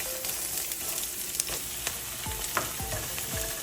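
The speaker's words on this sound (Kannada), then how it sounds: "ಆನಿಯನ್ ಚೆನ್ನಾಗಿ ಫ್ರೈ ಆಗ್ತಾ ಇದೆ" Onion and green chili crackle in a couple of spoonfuls of oil in a hot pan, a close steady sizzle punctuated by several short scraping stirs and light utensil taps.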